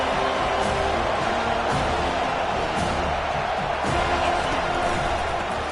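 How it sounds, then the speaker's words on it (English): A packed stadium crowd at a football game roars steadily on third down, a dense continuous wall of noise without letup, with faint thumps and whoops inside it. "this crowd is tearing the lid off this place"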